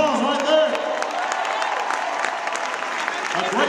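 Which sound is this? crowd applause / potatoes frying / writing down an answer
crowd applause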